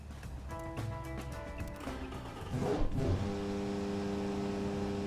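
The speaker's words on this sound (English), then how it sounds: "Well, the car does accelerate." A cheap 900cc car in the game Automation revs on a test track, a moderate engine tone rising through gear changes with a louder surge near the middle before settling into a steady drone.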